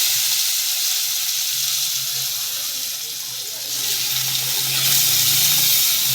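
Chopped onion dropped into hot oil with garlic in a pan over a low gas flame, giving a steady close hiss and sizzle that swells slightly near the end.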